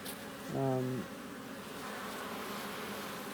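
Honeybees buzz from a large hive being split, a short, close drone swelling briefly and then settling into a fainter, steady hum.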